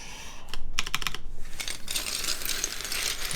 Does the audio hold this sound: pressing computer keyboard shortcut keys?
yes